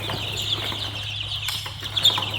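Young chickens cluck and cheep in a brooder, a continuous busy stream of overlapping soft calls close by, with a steady low hum beneath and a few louder squawks near the end.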